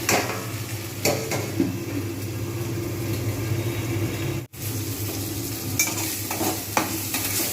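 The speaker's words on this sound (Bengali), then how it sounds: "টমেটোগুলো ভাজা হয়ে গেছে পেঁয়াজ আলু সব ভাজা হয়ে গেছে" Tomatoes, onions and potatoes frying together in a pan, with a loud continuous sizzle and occasional scraping stirs, broken once by a brief dropout.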